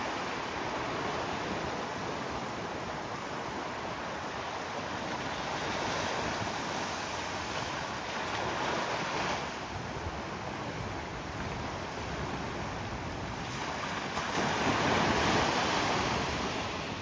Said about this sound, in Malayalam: ഇവിടെ നിൽക്കുമ്പോൾ നമുക്ക് കടലിൻ്റെ തിര എത്രത്തോളം വൈൽഡാണെന്ന് നമുക്ക് കാണാനായിട്ട് പറ്റും